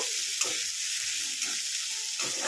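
Eggplant fries with fenugreek greens in a pan over a raised flame, a constant bright sizzle with occasional stirring scrapes and no talk.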